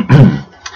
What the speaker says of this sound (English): I will clear my throat.